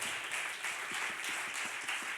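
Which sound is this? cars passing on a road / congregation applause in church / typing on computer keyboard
congregation applause in church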